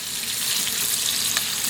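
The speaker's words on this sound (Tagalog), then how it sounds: "halu-haluin natin sila para pantay-pantay ang pagkaprito nila" Pork pieces for adobo frying in oil and stirred to half-cook evenly, giving a steady, close, loud sizzle with a brief crackle burst near the end.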